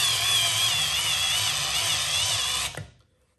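A Craftsman 4-volt cordless electric screwdriver whirs at a steady high pitch for under three seconds, then spins down and cuts off, with no talking over it.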